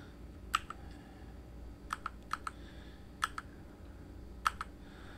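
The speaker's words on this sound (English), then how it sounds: "I don't know if you can see the keyboard strokes" Sparse computer keyboard keystrokes come from someone editing photos in Lightroom: single taps and quick pairs of crisp clicks, close and fairly quiet, with no voices.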